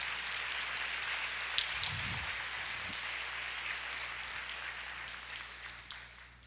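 A church congregation applauds in praise, a steady, hissing wash of many hands clapping at moderate distance, continuous and fading slightly toward the end.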